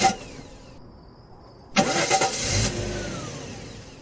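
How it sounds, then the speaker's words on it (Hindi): A car engine cranks and fails to catch, a brief burst at the start, then a louder grinding crank of about a second before it dies away to quiet. "गाड़ी क्यों नहीं स्टार्ट हो रही है?"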